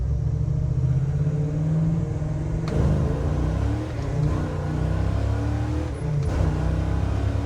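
A 1967 Chevelle SS clone with a 427 engine accelerates while driven, heard from inside as a loud, deep V8 rumble that rises through gear changes with brief dips between shifts.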